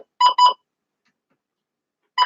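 A weather alert radio sounds two short, shrill electronic beeps close together, falls silent, then starts a third beep, loud and close with no one talking.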